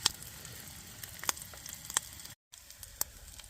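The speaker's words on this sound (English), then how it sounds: "Just going to heat this bacon up." Bacon sizzles and crackles steadily in a metal mess tin over a camp stove, with a continuous hiss broken by sharp pops and a brief dropout partway through.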